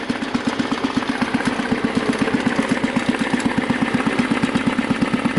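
A Husky 600 engine idles steadily, its regular low chugging pulses thumping at an even, fairly quick rhythm, close and continuous with no talk.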